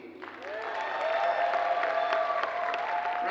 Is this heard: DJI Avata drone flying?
no